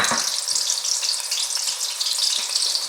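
Sliced onions sizzle steadily in hot olive oil in a pan, a continuous close frying hiss with a few soft stirring clicks and no talk.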